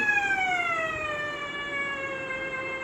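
A gold metal detector sounds a steady, loud electronic tone that slowly sinks in pitch over about three seconds, close by with faint background noise.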